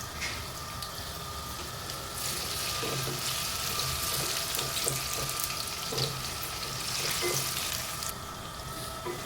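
Finely chopped potatoes fry in hot oil for vegetable fried rice, a steady broadband sizzle with scraping stir strokes and light clatter running throughout, close and fairly loud with no talk.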